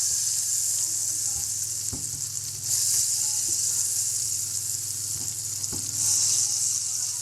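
Butter sizzling and melting in a hot pan on the stove, a close, steady frying hiss that rises in brief surges, with a few soft utensil taps and stirring sounds.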